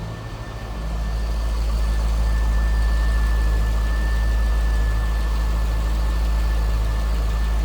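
A 2003 Chevrolet Corvette 50th Anniversary convertible engine idles steadily with a deep, even low rumble and a faint high whine, close by and unbroken, with no one talking.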